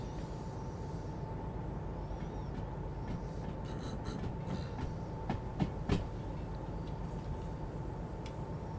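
A train rolls along rails in the Derail Valley video game, a steady low rumble with a sustained hum and rhythmic clicks and clanks from the wheels, a few sharper knocks near the middle.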